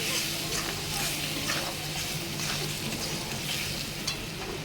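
Spice masala of chilli powder, cumin powder, salt and a little sugar frying in a pan, a steady close sizzle with occasional stirring scrapes running throughout.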